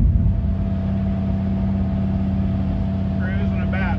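A car with an LS engine cruises steadily at about 2,000 RPM, a continuous low drone and hum with a constant tone throughout, with a brief higher chirp near the end.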